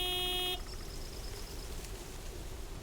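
A single short honk from the big white delivery truck's horn in the video game Lake, a steady harmonic blast that cuts off after half a second, leaving a faint ambient hum.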